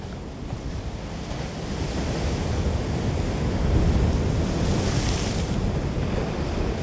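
Steady ocean surf washing and slapping against the shore in a meditation setting, a continuous broadband roar with wind noise that swells gently toward the middle, with no voices.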